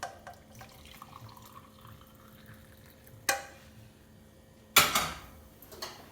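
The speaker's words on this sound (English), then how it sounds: "and you drop in the hot water in the cup." Hot water being poured into a cup to make ginger tea, heard as a quiet wet trickle with two sharper splashy bursts near the end, alone without talk.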